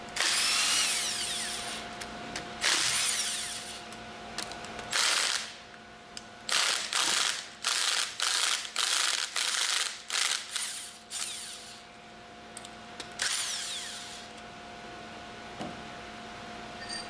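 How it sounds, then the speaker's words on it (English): Pneumatic impact wrench loosening the bolts on a General Pump MKS/MKSR pump manifold, firing in a string of loud, sharp rattling bursts of varying length separated by short pauses, close by with no talking. "Use the impact wrench to loosen the remaining bolts in the order demonstrated."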